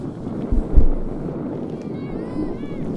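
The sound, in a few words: wind whipping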